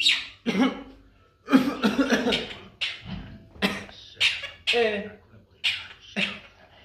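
Close by, someone coughs in a string of roughly nine short, sharp bursts at an uneven pace, with brief pauses between them.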